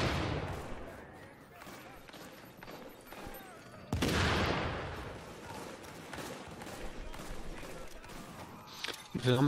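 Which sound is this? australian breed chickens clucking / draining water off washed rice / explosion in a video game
explosion in a video game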